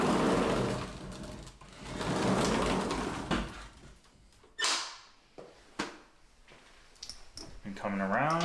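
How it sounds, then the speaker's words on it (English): A sliding bathroom door in an empty fixer-upper house is opened, giving a few sharp clicks and short rolling scrapes among handling noises, with quiet room sound between them. "We have a sliding door for your privacy here."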